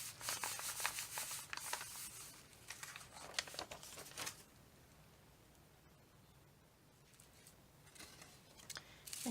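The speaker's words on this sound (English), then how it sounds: "So I'm just going to put the front down, cover it up, and rub over it." Hand rubbing over a covered card front to transfer a dotted print, a close, soft scratchy friction sound in repeated strokes for about four seconds, then fading to near quiet before brief renewed rustling at the end.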